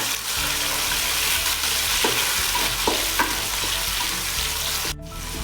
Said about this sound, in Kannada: ಇವಾಗ ಈರುಳ್ಳಿ ಹಾಕೋತಾ ಇದ್ದೀನಿ ನಾನಿಲ್ಲಿ ಒಂದೆರಡು ಈರುಳ್ಳಿನ ತೆಗೆಗೆ ಚಿಟ್ಕೊಂಡಿದ್ದೆ ಫ್ರೈ ಮಾಡ್ಕೋಬೇಕು